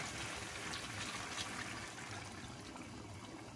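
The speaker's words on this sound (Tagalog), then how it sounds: "mag-add tayo ng konting tubig para lutuin natin ang ating chicken" Water pours steadily into a pot of chicken afritada cooking with coconut milk, a continuous soft trickling splash close by, with no talk.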